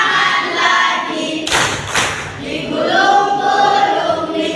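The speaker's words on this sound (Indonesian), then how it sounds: "Tepuk tangan lagi." Two sharp hand claps land in quick succession during a sung Indonesian action song for a class activity, crisp and close against voices that continue throughout.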